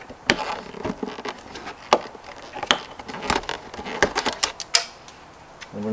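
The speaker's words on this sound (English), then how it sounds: "So just use your pliers or your wire cutter and cut that." Pliers or wire cutters snip a zip tie securing headlight wiring on a 2013-2017 Kawasaki Ninja 300, a series of sharp, close clicks and snaps in an irregular rhythm.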